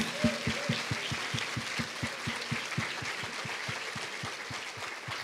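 A church congregation claps in a steady rhythmic beat, with quiet crowd murmur underneath, somewhat distant and fairly soft throughout.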